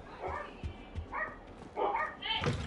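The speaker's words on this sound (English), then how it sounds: "dog's going off again" A dog barks several times in quick, close yips and bow-wows, with someone talking over it.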